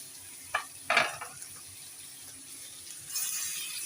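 Bombay duck fish go into a hot pan, giving a few quick splashing clatters and stirring scrapes, then a soft, steady sizzle builds near the end; quiet overall, with no voices.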